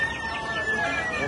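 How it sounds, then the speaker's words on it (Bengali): Chickens of several breeds kept at a poultry auction, a short burst of close, loud clucking and squawking heard alone without any talk. "এটা বড় মুরগি, বড় জাতের মুরগি"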